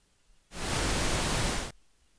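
A steady hiss of broadband noise, like white or pink noise, switches on abruptly after about half a second, holds at an even level for just over a second, then cuts off cleanly into near silence.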